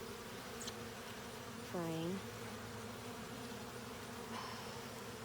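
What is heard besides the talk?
bees buzzing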